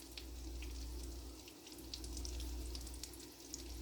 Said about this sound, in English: I'm just going to work this into my pasta water